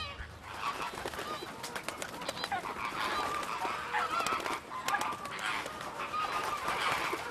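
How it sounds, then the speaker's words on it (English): A large flock of greater and lesser flamingos calls at Momella Lakes in Arusha National Park, Tanzania, with a dense, continuous chorus of goose-like honks and clucks at moderate distance and no talking. "Hundreds of greater and lesser flamingos can be viewed swimming or wading the waters of the lake, or congregating on small islets"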